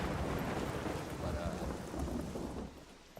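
Steady heavy rain with rumbling thunder outdoors in the survival game SCUM, a dense wash of downpour that fades slightly toward the end.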